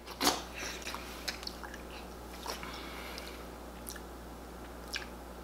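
Someone eats fufu with egusi soup close to the microphone, making faint, wet squishing and smacking mouth sounds, with one louder sticky bite at the start and soft sporadic clicks after.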